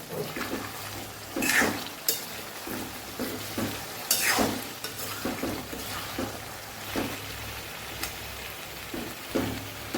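Spicy Kathiyawadi vegetable curry with chips cooks in a pan, a soft continuous simmering sizzle broken by intermittent scraping stirs and clinks of the spoon, fairly quiet and close.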